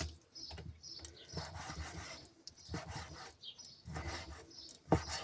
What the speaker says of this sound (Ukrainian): Нарізаємо наше м'ясце кубиками.